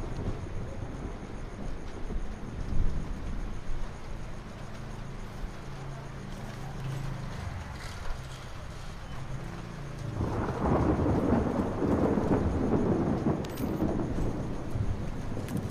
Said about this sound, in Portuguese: eu tô impressionado com o barulho dos trovões, cara